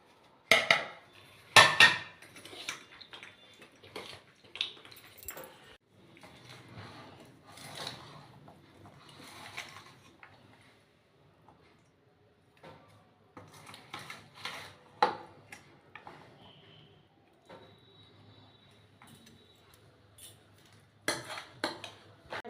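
Aloo kabli, potato mixed with tamarind water, salt, black salt and spices, being mixed in a bowl, with repeated clinks and scrapes of a spoon against the dish in irregular bursts, close and fairly quiet.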